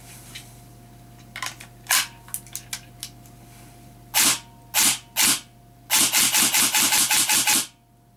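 A Systema PTW airsoft gun on an 11.1 V 1000 mAh battery fires single shots and short bursts, then a sustained rapid-fire string of sharp, close mechanical cracks.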